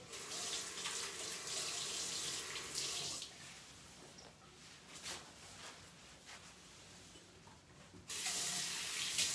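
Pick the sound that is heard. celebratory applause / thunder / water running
water running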